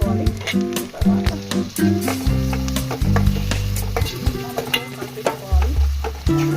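An onion and tomato mixture is stirred and fried in a pan over high heat, giving a loud, close, continuous sizzle with constant scraping and knocking of a spoon, plus some low rumbling background.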